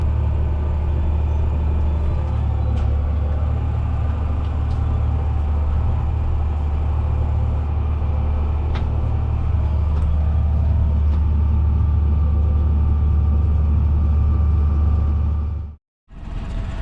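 A tractor engine runs steadily while sowing timothy in a field, a loud, close, continuous low rumble with a constant drone that cuts out abruptly near the end.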